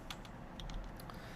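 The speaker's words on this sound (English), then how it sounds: "Control Z on the keyboard goes back one step." Computer keyboard keys tapped in a classroom Photoshop session produce a handful of quiet, crisp clicks in an irregular rhythm, close and faint, with no talk over them.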